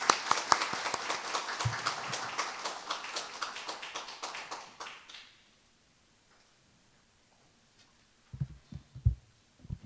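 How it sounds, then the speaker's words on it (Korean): An audience at a university sustainability lecture claps in a brisk burst of applause that fades out after about five seconds, followed by quiet and a few soft knocks. "큰 박수 부탁드립니다"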